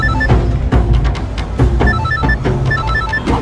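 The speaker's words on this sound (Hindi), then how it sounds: "ये फोन भी ना हर वक्त बजते रहता, ट्रेन ट्रेन ट्रेन ट्रेन।" A telephone rings insistently, its bright electronic trills repeating in quick bursts over a low background hum.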